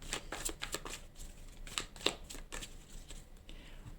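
Tarot cards being shuffled and cut: a close, continuous run of crisp riffling flutters in quick succession, quiet and without speech over it.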